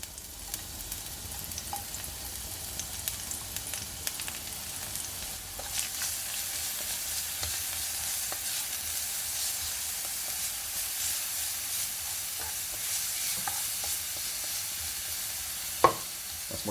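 Garlic frying in olive oil in a pan gives off a steady, close sizzle and hiss, with the odd soft clink of stirring and one sharp knock near the end.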